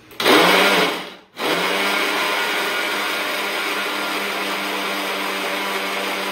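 A mixer grinder grinding spice paste for chicken curry whirs loudly, briefly stopping after a second, then running again with a steady, high-pitched motor drone.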